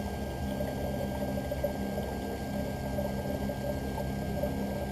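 A lens edger's bevel wheel grinds an eyeglass lens for RayBan 2132 New Wayfarer frames, a steady wet whirring hum with water spray, continuous and even at close range.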